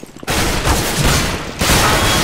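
Heavy gunfire from a shotgun and a FAMAS rifle in the video game CS:GO, a loud dense burst of overlapping shots starting abruptly after a quiet moment and continuing steadily to the end.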